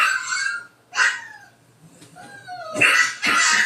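A dog whimpers and yelps in short high cries between pauses while being hit, with a couple of louder bursts near the end and no clear speech.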